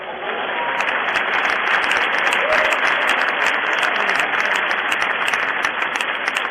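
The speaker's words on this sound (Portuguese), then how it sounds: "Ei, aplausos ao Senhor." A church congregation applauds steadily and loudly throughout, a dense unbroken wash of clapping from a large crowd with no pauses.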